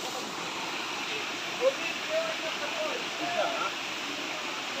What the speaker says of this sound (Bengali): আরেকটা ঝর্ণা